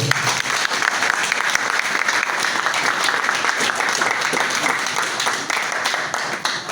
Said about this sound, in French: Applaudissez pour Forever